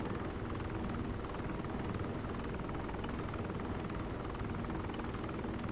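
A helicopter flies in a military shooter video game on an airfield assault map. The rotor drone is continuous and fairly loud, with no talk over it.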